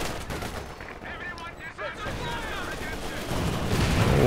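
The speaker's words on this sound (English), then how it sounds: "good barrage from the mortar pit" A mortar pit in Company of Heroes 2 fires a World War II barrage: a dense, continuous rattle of blasts and impacts, building in loudness toward the end under faint battle noise.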